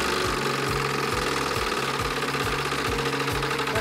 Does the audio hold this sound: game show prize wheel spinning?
yes